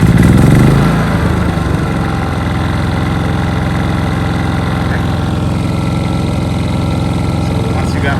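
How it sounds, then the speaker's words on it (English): A Westinghouse iGen4500 portable generator fires up with a brief surge, then settles into a steady, droning run that continues close and loud throughout. "Let's go ahead and start the generator."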